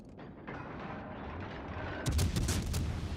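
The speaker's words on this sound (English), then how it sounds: "You're gonna take your one shot and shoot at me?" A gunshot in an online video game fired at the player, a sharp burst of cracks and booms arriving about two seconds in, loud and close, after a low rumbling lead-in with no talking.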